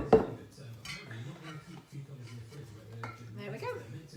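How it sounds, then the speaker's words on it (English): Metal cake tins clink and clatter as Victoria sponge cake mixture is tipped and spread into them, with a sharp clank at the start and lighter scraping knocks after, under a talking voice. "we're going to tip that into the 2 cake tins that we prepared earlier"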